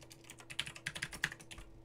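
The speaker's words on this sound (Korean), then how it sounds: "그리고 제목을 이제 타이핑을 해서" Quick, light keystrokes clatter on a computer keyboard in an uneven burst, quiet and close.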